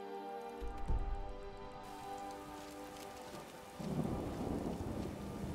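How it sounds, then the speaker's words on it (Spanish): A low rumble of thunder in the video game The Elder Scrolls V: Skyrim rolls in over steady rain and background music, swelling louder toward the end. "Eso ha sido relámpago y trueno"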